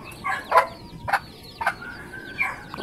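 A hen and her chicks peck and cluck at close range, with a few short, sharp clucking calls spaced apart over a quiet background and no voices.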